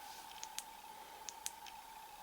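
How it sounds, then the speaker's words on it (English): An Olight S10 flashlight's tailswitch gives two pairs of crisp, close clicks over a quiet background. "I like that the switch has a positive clicky sound."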